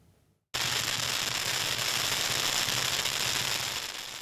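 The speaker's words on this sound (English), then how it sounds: "the sharp crackle of firecrackers" Firecrackers burst at a Lunar New Year celebration in a dense, continuous crackling barrage, loud and close, holding steady for several seconds before easing slightly at the end.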